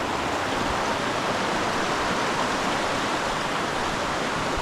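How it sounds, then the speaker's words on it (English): Rushing river water in Ferguson Canyon, heard up close while wading through the current: a loud, steady, broadband roar with no letup and no voices. "walking right through the river now."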